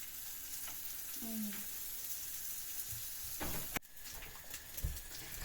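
Quiet steady sizzle of pork fat frying in a pan, with a few soft clinks and a faint bird chirp in the background.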